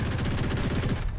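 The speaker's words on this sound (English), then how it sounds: "I'll shoot it down now" Rapid, continuous automatic gunfire in a video game, dense and close, rattling steadily for about a second before cutting off.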